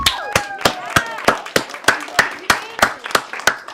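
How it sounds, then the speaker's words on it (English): A few people clapping in a room, about a dozen sharp, evenly spaced claps with a ringing echo, close and fairly loud. "Round of applause for yourselves."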